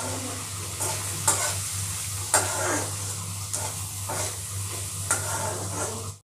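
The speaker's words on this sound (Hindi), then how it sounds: "ये देखिए हमारा प्याज फ्राई हो चुका है।" Onions fry with cumin and Kashmiri chili powder for an onion kachori filling, giving a steady close sizzle over a low hum, broken by periodic scraping stirs of the pan.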